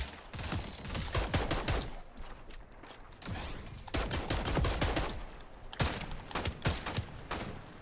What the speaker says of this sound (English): Oh, this is a revolver pistol?